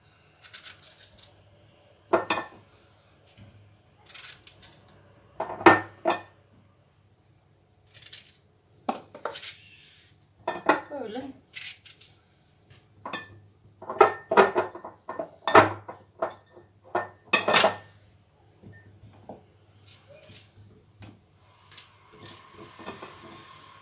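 Irregular knife clicks and glassy clinks as cucumbers are chopped into a glass jar for pickling, with crisp chopping strikes scattered among pauses, close by and without speech.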